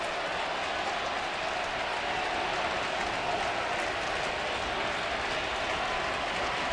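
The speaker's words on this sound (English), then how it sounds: "the crowd starts to come alive a little bit" A crowd at a Toronto baseball stadium during an Orioles at Blue Jays game in 2009 cheers and applauds, a dense, steady wash of clapping and roar heard from a distance without a break.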